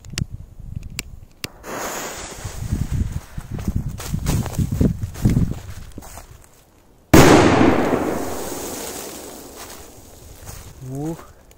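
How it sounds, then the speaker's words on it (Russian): A big firecracker goes off with one sharp, loud blast outdoors, its roar decaying over several seconds, after footsteps and shuffling by people preparing it. "Ну что, посмотрим мощный взрыв."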